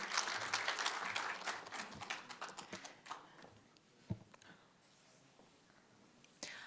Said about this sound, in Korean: 박수로 맞이 부탁드립니다.